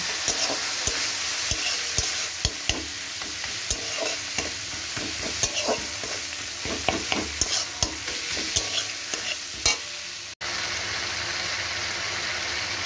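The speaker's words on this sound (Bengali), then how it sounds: "দিয়ে দিচ্ছি হলুদ, দিয়ে দিচ্ছি 1 চামচ ধনে জিরের গুঁড়ো দিয়ে এবার এটাকে ভালো করে কষিয়ে নেব।" Turmeric and coriander-cumin powder are stir-fried in hot oil, heard close and loud as a continuous sizzle with rapid, irregular stirring scrapes and clatters. The stirring stops near the end and the sizzle carries on alone.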